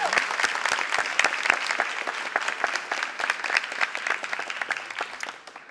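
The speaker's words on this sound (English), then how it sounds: "A great round of applause for you guys." A crowd at a physician assistant white coat ceremony applauds warmly, many hands clapping in a dense, sustained roll that tapers off toward the end.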